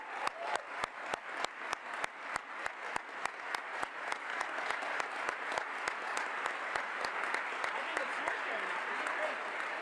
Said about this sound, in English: a big round of applause for our 2 astronauts